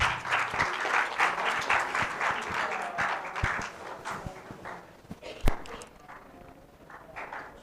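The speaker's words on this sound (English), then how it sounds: "So please welcome Pushpa with a huge round of applause" An audience at a school TED-style talk event claps to welcome a speaker, fairly loud applause at first that thins and fades toward the end, with a few isolated sharp claps.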